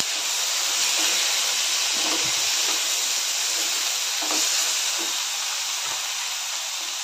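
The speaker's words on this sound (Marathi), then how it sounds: "आता ह्यामध्ये मी भिजवलेली डाळ घालते। डाळ घालून चांगलं परतून घेऊया।" Soaked lentils being sautéed in a hot pan give off a constant loud hissing sizzle, with soft scraping knocks from stirring scattered through it.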